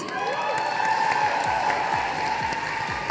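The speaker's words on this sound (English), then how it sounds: "Let's start with a round of applause for the top 4 teams." An awards ceremony audience applauds the top four teams, a sustained wash of clapping with some cheering mixed in, heard over a steady tonal hum and faint clicks.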